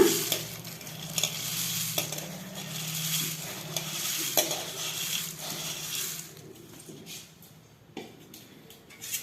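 Puffed rice poured into a pan and stirred with a spoon, giving a steady crackling, rustling scrape close up that thins out and grows quieter toward the end, with no voices.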